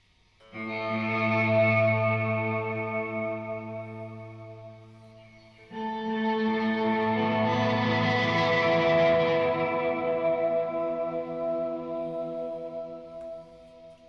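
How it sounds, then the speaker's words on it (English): A sustained, wet, reverberant wash of tonal sound from a long reverb effect on a Red Panda Tensor swells in, briefly dips, then returns even fuller, with long, smeared tails and no voices. "for this sound we want something really immersive from the reverb"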